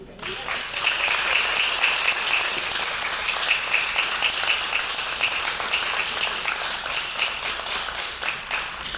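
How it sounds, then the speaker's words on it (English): A crowd at the Thurgood Marshall luncheon marking its 68th anniversary breaks into applause that rises quickly and stays thick and even for the whole stretch, a bright rain of many hands clapping at once. "Give another round of applause to"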